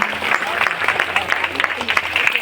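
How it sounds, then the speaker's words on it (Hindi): Loud, dense applause from a crowd at a devotional lamp festival gathering, steady clapping filling the whole stretch without a break. "एक बार जोरदार ताली दीप महोत्सव के लिए"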